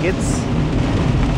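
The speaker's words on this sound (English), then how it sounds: "Anytime it's raining and I film it, it doesn't look nearly as bad as it actually is on camera" Heavy rain pours steadily outdoors in 56-degree weather, a dense continuous broadband wash with low rumbling underneath, loud and close throughout; a voice briefly starts to speak near the start.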